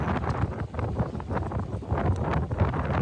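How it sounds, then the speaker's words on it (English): Strong gusting wind on McCall Glacier buffets the microphone in a continuous low roar with fluttering, uneven surges throughout and no voices. "Super windy too for a while."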